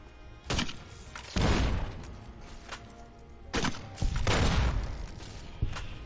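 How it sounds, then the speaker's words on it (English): Bursts of gunfire from the video game Fallout New Vegas, aimed at giant ants: several loud broadband blasts in irregular clusters, some sustained like rapid fire, with rumbling low thuds between shots. "Eddie, shoot it!"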